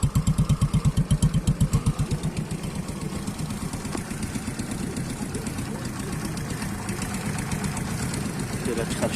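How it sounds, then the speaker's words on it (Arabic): An X1000 motorbike engine converted from 110cc down to 49cc runs steadily, its rapid thudding firing pulses loud and close at first, then blending into a continuous buzzing drone. "الصوت ديالو بحال مركب 49 ميل اصليه."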